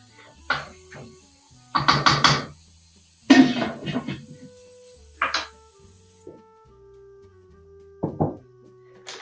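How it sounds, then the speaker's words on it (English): Vegetables tumble into a stockpot of chicken bones and get stirred, giving several bursts of clattering, knocking thuds and scraping between quiet gaps, close and fairly loud. "So we're gonna go ahead and just dump the vegetables on in. A little bit of a stir to make sure the veggies are kind of distributed with the bones."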